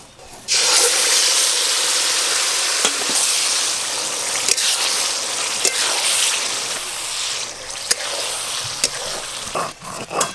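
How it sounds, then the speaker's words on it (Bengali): Tamarind sizzles and fries in hot oil seasoned with five-spice for a Bengali pickle, a loud, steady crackling hiss with occasional stirring clicks, close up and without talk. "গরম তেলে তেঁতুলগুলো একটু ভাজা ভাজা করব।"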